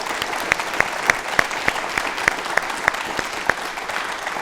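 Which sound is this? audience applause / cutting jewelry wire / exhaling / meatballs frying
audience applause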